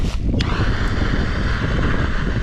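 A strong north wind blows across a farm field being cleared for burning, roaring steadily and buffeting the microphone with a constant low rumble from start to finish.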